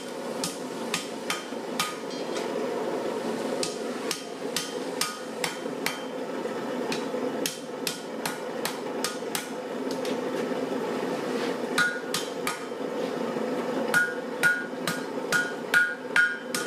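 Rapid metallic hammer strikes ring out in an uneven rhythm over a steady background hum, like hammering metal in a forge, with no talking.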